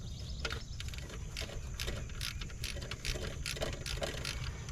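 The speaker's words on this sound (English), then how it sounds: "First you want to loose this bolt." A ratchet wrench loosens the 14mm alternator bolt on a Honda Accord, giving a steady run of close, crisp clicks over a low mechanical hum.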